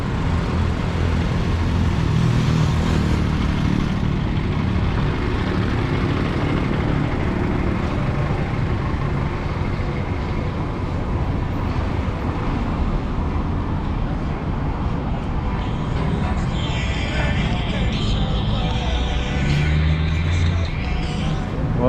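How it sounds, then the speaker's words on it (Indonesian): Busy bus terminal in Kuala Lumpur with vehicles idling, a steady broadband rumble of engines and traffic throughout, low engine hum dominating with scattered background voices. "Ini terminal bus."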